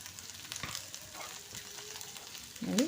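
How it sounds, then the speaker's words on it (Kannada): Okra frying in oil for chutney, a steady soft sizzle and crackle throughout with a brief louder stir near the end. "ಇದನ್ನೆಲ್ಲ ನಾವು ಎಣ್ಣೆ ಒಳಗಡೆ ನೀಟಾಗಿ ಫ್ರೈ ಮಾಡ್ಕೋಬೇಕು"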